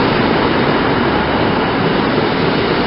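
A British Rail Class 150 diesel multiple unit passes close by with a loud, steady broadband rush and rumble that holds without a break throughout.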